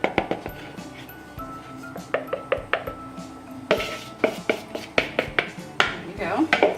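Spoon or spatula stirring oatmeal cookie dough with flour and baking soda in a large bowl, giving repeated clinks and scrapes against the bowl in an uneven rhythm, close and moderately loud.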